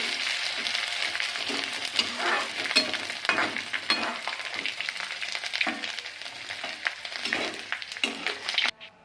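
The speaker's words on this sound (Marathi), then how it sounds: "आता आपण डिंक तळून घेणार आहोत" Edible gum (dink) fries in hot oil in a kadhai, a steady close crackling sizzle with bursts of popping and occasional stirring scrapes throughout, no voices.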